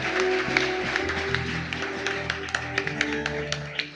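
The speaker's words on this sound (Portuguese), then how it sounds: "Você pode dar um aplauso a Jesus?" A church congregation applauds in a steady rhythm of hand claps, moderately close and clear, over a sustained low organ or keyboard tone that holds beneath the clapping throughout.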